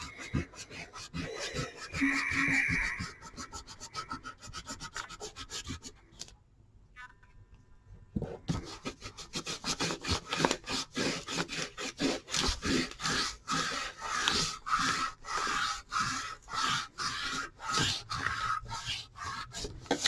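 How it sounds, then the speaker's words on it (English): A pencil eraser rubbing out lines on a paper drawing of a WW2 Sturmtiger tank, with fast back-and-forth scrubbing strokes in a dense rhythm, a brief pause in the middle, then steady rubbing again, close up. "take your pencil and go over everything with your eraser, and that will get rid of all the unneeded lines you don't want"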